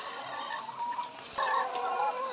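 Several farm chickens cluck close by while they feed, a busy run of short clucks rising and falling with no talking.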